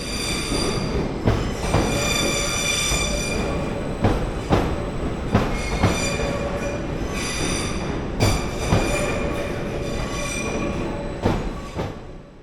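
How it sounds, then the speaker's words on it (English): A long intercity train, nearly 240 meters, rolls slowly into a British station platform, wheels squealing and clattering over rail joints with intermittent clunks, loud and close. "That's how long it takes for these trains to arrive into the platform."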